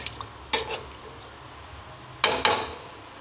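A spoon scrapes through chicken and tinda curry in a pan as the liquid cooks down, with a few distinct stirring strokes over a faint steady sizzle.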